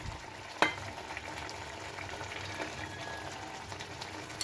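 Prawns frying in a spice mixture in a pan give a steady soft sizzle with a faint bubbling under it and one sharp clink near the start. There is no talk.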